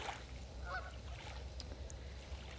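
Geese on a river honk in a few short calls at middle distance over a steady low rumble of water and ambient noise.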